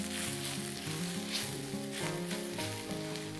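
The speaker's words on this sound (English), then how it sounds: "We're just going to stir that round." Bay leaves and paprika sizzling steadily in a hot pan with light stirring, a continuous close frying hiss without talk.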